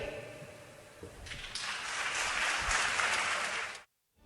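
An audience applauds for a young Ukrainian heroine, the clapping swelling in after a second and holding as a dense, even wash before cutting off abruptly near the end.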